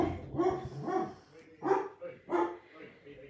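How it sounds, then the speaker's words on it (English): A dog barks indoors in several sharp, close bursts, some with whiny yips, mixed with a person talking nearby. "Let somebody else deal with his barking."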